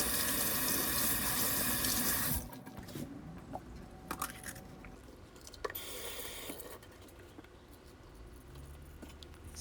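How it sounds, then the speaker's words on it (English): A kitchen tap runs hard into a sink for washing seasoning vegetables for Jamaican curry chicken back, then stops; wet handling, squishing and light clatter of produce follow, close and moderately loud. "so I have to wash all my seasoning"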